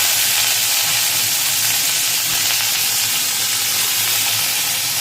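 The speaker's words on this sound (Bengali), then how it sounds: "ছোলাগুলো দিয়ে একটু ভাজবো।" Chickpeas fry in a pan, a dense, steady close-up sizzle and hiss lasting the whole stretch, loud and alone without talk.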